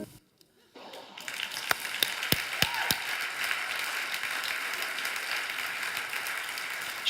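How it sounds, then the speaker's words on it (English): Audience applause comes through a virtual event call after a brief silence, a thin, steady wash of clapping with a few sharp clicks and taps near the start. "Shahrin, I hope you can hear the applause"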